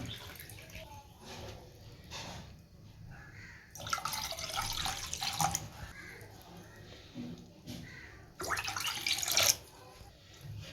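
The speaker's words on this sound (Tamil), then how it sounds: "இப்போ இந்த பாலில் ரெண்டு கிளாஸ் அளவுக்கு தண்ணி சேர்த்துக்கலாம்" Water poured into milk in a pot while preparing Tirunelveli halwa, a splashing, dripping pour in two louder bursts over soft kitchen noise, with a voice talking in the background.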